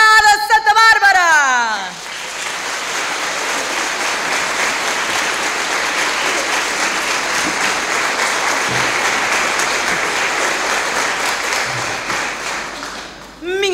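Sustained audience applause at a carnival circus show, a dense rain-like wash of many hands clapping steadily for over ten seconds after a spoken voice fades out at the start.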